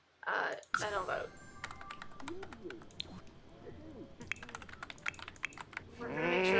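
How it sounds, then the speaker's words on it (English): Rapid tapping on a computer keyboard, faint and close, in uneven bursts of light clicks, framed by talking voices at the start and end. "How is it typing when your fingers aren't typing?"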